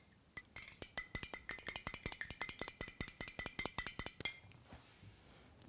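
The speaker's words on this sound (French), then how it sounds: "On bat légèrement l'œuf et la crème fraîche." Egg and crème fraîche are beaten lightly in a bowl for a two-sugar tart, a quick run of about thirty sharp, regular whisk taps against the bowl that stop abruptly, close and clear with no voices.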